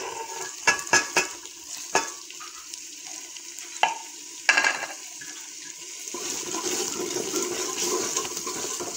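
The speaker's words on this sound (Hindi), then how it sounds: "तो अब इसमें डाल रही हूँ नमक मिर्च मसाला और हल्दी।" An onion, tomato and green chili masala fries in a pan with salt, chili and turmeric, sizzling steadily while several sharp spoon clanks knock against the pan.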